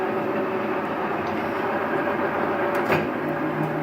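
A big 36x144 lathe spindle runs, giving a steady mechanical hum and drone with a faint clunk near the end, close and continuous without speech.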